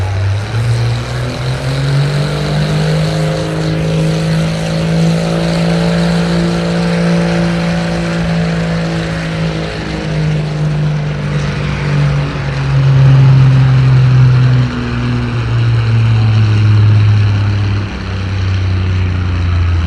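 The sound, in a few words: Minneapolis Moline pulling tractor engine roaring at tractor pull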